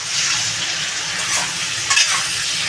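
Cauliflower and prawn curry sizzles steadily in a hot pan as coriander and cumin powder are stirred in, a continuous bright frying hiss with a couple of scraping stir strokes near the end, no talk.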